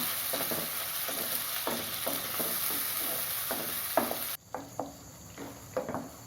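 Ground tomato and raw cashew paste with ginger-garlic paste sautéing on a slow flame for restaurant-style egg gravy: a continuous close sizzle broken by repeated spoon scrapes, the hiss dropping sharply partway while stirring continues.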